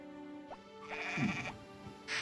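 Sheep bleats in a Harvest Moon video game barn, with two short synthetic bleats over a quiet tonal game background.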